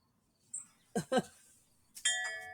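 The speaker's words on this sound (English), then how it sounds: "Oh, knock on chimes." Wind chimes are knocked, giving a bright metallic ring that follows a short voice and then lingers as clear sustained tones toward the end.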